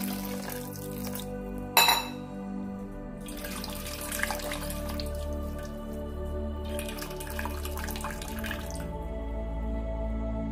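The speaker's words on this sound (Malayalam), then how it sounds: "ഇങ്ങനെ ഡ്രെയിൻ ചെയ്തെടുത്തു കഴിഞ്ഞാൽ അതിൻ്റെ മേലെ ഒട്ടാതിരിക്കാൻ വേണ്ടിയിട്ട് കുറച്ച് പച്ചവെള്ളം കൂടി ഒഴിച്ച്" Cold tap water poured over drained cooked vermicelli in a kitchen: a steady, faint hiss of running and splashing water broken by two or three louder surges, with a sharp clink near the start.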